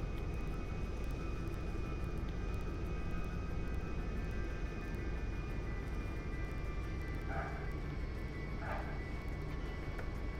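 A steady, droning airplane engine hums continuously as an aircraft comes in to land in Grand Theft Auto V, with a constant tone and no breaks throughout.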